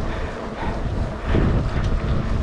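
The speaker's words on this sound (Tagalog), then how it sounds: "Lakas ng hangin, ang lamig." Strong wind roars steadily across the microphone, a loud, rushing buffet that swells briefly midway, with no voices.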